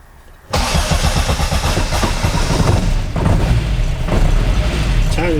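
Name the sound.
Austin Mk1 engine starting with a little throttle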